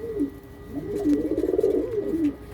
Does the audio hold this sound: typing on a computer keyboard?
no